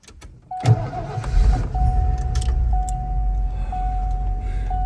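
A Ford F250 truck with its starter jumped using vice grips on the bar cranks briefly, then the engine catches and settles into a steady, close low idle rumble, with no one talking.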